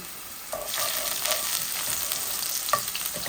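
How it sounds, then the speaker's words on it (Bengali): Garlic fries in hot oil, reddening in the pan, giving a steady close sizzle with a few spoon clinks and scrapes scattered through. "আমার তেলটা প্রথমে গরম হয়ে গেছে, দেখো আমার রসুনগুলা লাল লাল হয়ে গেছে"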